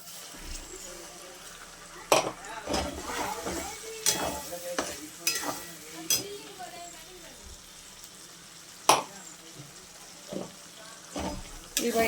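Mutton fries with ginger, garlic and onion paste and whole garlic in a pan, with a low sizzle under repeated scraping spoon strokes and metal clinks, and a voice speaking at times.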